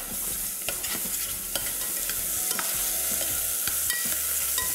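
Onions fry with a pinch of salt in a pan, giving a steady close sizzle broken by repeated scraping stirs, with no talking.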